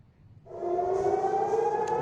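An air raid siren wails in Israel about 10 kilometres from the Gaza Strip near the Mediterranean, rising in from quiet and then holding a steady, loud, sustained tone.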